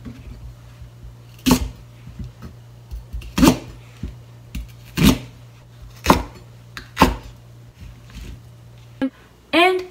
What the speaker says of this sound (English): First, cut white spring onion into 4 centimeters long.